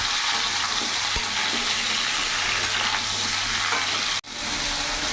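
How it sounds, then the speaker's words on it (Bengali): Malabar spinach stems fried and stirred with a katla fish head in a pan give a loud, steady sizzle with scraping stirs throughout, broken by a brief cut near the end. "এমনি নাড়াচাড়া করে একটু ভাজা ভাজা করে নিলাম"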